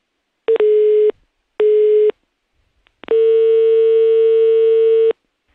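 Telephone line tone during a call: two short tone bursts followed by a longer steady beep, clear and loud with silent gaps between, no voices.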